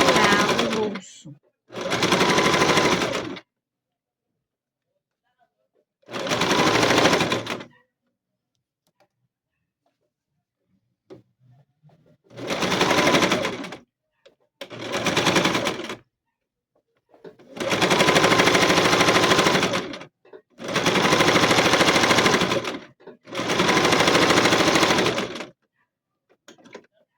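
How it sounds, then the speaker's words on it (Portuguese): A sewing machine stitches slowly over a zipper on a child's backpack in several separate bursts of steady whirring, close by, with quiet pauses between runs. "a gente passa devagarzinho em cima do zíper, né? Pra não quebrar."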